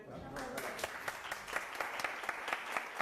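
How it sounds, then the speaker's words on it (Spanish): Audience applause after a talk at a medical congress on colorectal cancer prevention and diagnosis, a moderate steady patter of clapping with some voices mixed in. "Bueno, un aplauso, ¿no?"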